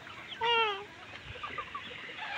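Chickens at a poultry farm give one clear drawn-out cluck near the start, then softer scattered clucks over a low barn hum, with no talk.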